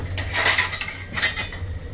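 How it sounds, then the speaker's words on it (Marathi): A metal lid is set on a cooking pot of boiling salted water for masale bhat, giving a few quick clanking, rattling clinks over about two seconds. "आता आपण याच्यावर झाकण ठेवू"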